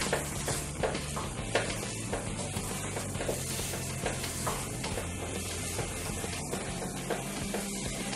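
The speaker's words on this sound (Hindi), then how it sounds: "अब हमारा घी ऊपर आ चुका है, मैंगो शिरा बन चुका है। हम उसमें ये ड्राई फ्रूट्स ऐड करते हैं।" Mango halwa made with semolina and mango pulp sizzles steadily in ghee as dry fruits are stirred through it, with scraping spoon clicks and soft crackling popping throughout, close and continuous.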